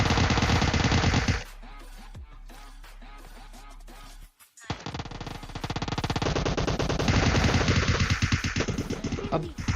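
Rapid automatic gunfire in the video game PUBG Mobile Lite, loud dense bursts of shots that stop briefly before a second long sustained volley, with scattered single shots in the pause.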